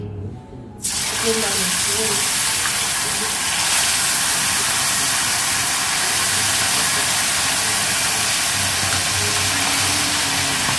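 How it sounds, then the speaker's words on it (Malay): Fish hits hot oil with a sudden loud sizzle, then fries in a continuous, close, crackling hiss that stays strong throughout. "Okey, dah panas minyak. Kita goreng."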